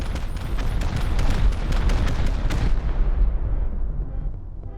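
Repeated booming rocket blasts from a base raid in the game Rust, several heavy explosions in quick succession with dense rumbling debris, loud and continuous before fading toward the end.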